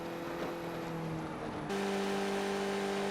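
Car engines at the Daytona speedway rumble as a steady distant drone, with a sustained tonal hum that shifts to a louder, higher pitch partway through; no voices.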